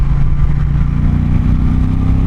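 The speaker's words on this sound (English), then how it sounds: "that mid-throttle pull is so nice with this bike" An Indian Challenger motorcycle accelerates, its engine a loud, close, steady throaty rumble with a deep harmonic drone that pulls through mid-throttle.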